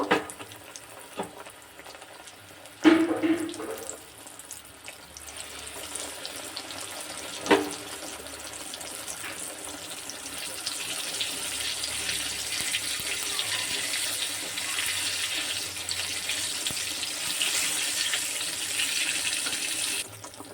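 Eggplant fritters (beguni) fry in hot oil in a wok, a steady sizzling hiss that swells as more slices go in, with a few sharp clinks and splashes early on.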